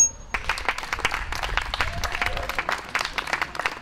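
Crowd applauding at an outdoor activist gathering held jointly by TCNA, Greenpeace Montpellier and SDN 11 against nuclear projects in Narbonne, a steady, dense clapping sustained throughout with scattered voices mixed in.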